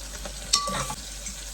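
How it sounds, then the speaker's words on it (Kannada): Green chillies drop into sizzling oil, giving a brief close burst of spitting and crackle over a low steady fry, then settling back to a quieter sizzle. "ಇದಕ್ಕೆ ಹಸಿಮೆಣಸಿನ್ಕಾಯಿ ಹಾಕ್ತಾ ಇದ್ದೀನಿ."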